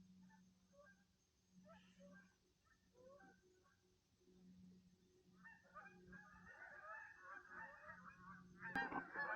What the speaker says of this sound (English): at first it sounds like maybe more hunting dogs, but it's Canadian geese.